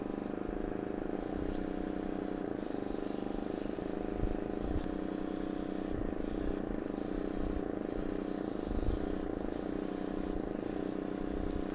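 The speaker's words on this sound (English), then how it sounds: "And I'm spraying it in there" A paint spray gun hisses in a continuous, loud, close spray, with brief gaps where the trigger is released several times and overspray drifts.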